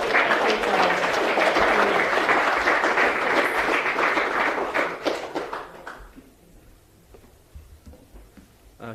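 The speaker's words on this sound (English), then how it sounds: "give another round of applause for our taitamariki and also our commissioner" Audience applause for young people and a commissioner at a public gathering, a dense sustained clapping that fills the first five seconds, then thins and fades out, leaving quiet room sound with faint scattered taps.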